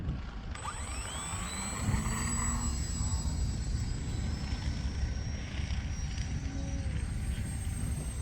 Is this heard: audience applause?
no